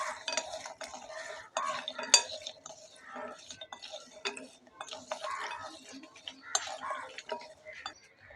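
Chaat masala and ground pepper being tossed and mixed into fried nimki, giving a close, steady run of dry rustling and light clinking from the spoon and bowl that lasts throughout with no talking.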